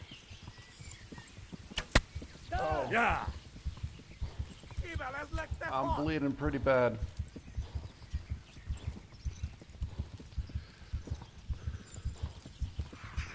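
Horse hooves gallop in a steady rapid clip-clop rhythm throughout a ride in the video game Kingdom Come Deliverance, with a voice talking over them partway through.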